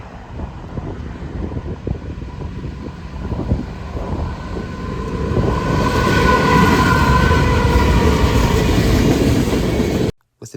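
A Union Pacific train with heritage-painted locomotives passes close by, the clatter of rail cars building into a loud, sustained roar with tonal squeals from the wheels before cutting off abruptly; no voices.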